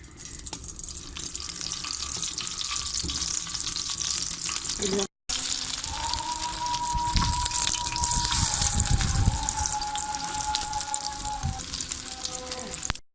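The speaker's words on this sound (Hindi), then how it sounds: "ये घी चाहिए इस तवे पे मैं डाल दूंगी इस तरह कबाबों को फ्राई करने के लिए" Shami kebabs fry in ghee on a tawa griddle with a loud, steady sizzle and crackle close by, briefly cut off, then resuming with spattering; faint speech underneath.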